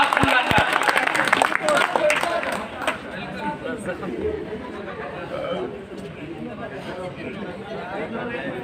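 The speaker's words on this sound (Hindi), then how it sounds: "आप मरतबा जोरदार तालियों से ये समझो कि आप सुनना चाहते हैं।" Applause and crowd chatter fill a mushaira poetry gathering, strong claps bursting at the start then settling into a steady murmur of voices and scattered clapping.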